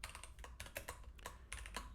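Rapid typing of code on a computer keyboard: quick, irregular key clicks in small bursts, close but quiet, with no voice.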